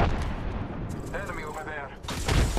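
A frag grenade in Apex Legends detonates with a heavy, booming blast that rolls into low rumbling gunfire-like crackle, mixed with game voice lines and brief bursts near the end.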